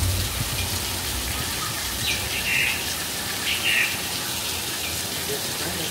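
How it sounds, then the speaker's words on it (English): Artificial movie rain pouring from an overhead sprinkler system on a studio tram tour set, a dense continuous hiss of falling water with faint higher chirps over it. "Now this movie rain is a result of an overhead sprinkler system."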